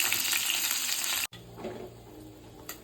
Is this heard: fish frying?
yes